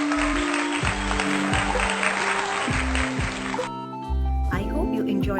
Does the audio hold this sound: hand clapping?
yes